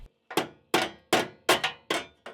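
Hammer striking a steel boot floor repair panel being welded into a car body, six sharp metallic blows in a steady rhythm, loud and close with short ringing decay.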